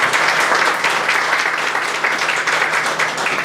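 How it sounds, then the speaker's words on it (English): Steady, dense applause fills a graduation ceremony crowd as the 2021 high school valedictorian is honored, sustained at an even level throughout without pause. "let's give him a round of applause"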